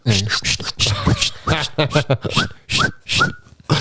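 A person makes quick whistled notes, short rising chirps mixed with vocal sounds, a voice playfully imitating whistling up close.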